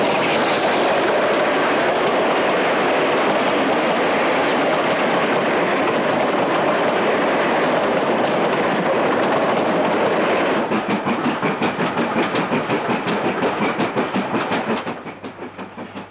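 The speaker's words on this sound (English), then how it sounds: "The up Cambrian Coast Express enters Mahuntleth." An up Cambrian Coast Express steam train rolls into Machynlleth station with a loud, continuous roar, then a rapid clickety-clack of wheels over rail joints grows prominent before easing near the end.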